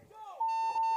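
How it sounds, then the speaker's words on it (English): A paintball tournament buzzer sounds at the end of a match, a steady electronic tone that holds for over half a second after a brief rising lead-in, fairly loud and close. "Storm's even going to try to hit the buzzer"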